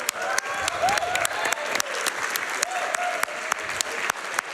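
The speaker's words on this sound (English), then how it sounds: "Can we get another round of applause for our runner?" A crowd at a Summer Games Done Quick speedrunning marathon applauds a Metroid Prime runner, dense clapping with sharp individual claps standing out and brief cheers or whoops over it.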